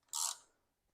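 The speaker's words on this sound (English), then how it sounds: "I can go ahead and torque this thing down." A ratchet tightens a bolt on a Jeep Wrangler TJ, giving one short, close metallic burst of ratcheting clicks that fades quickly into quiet.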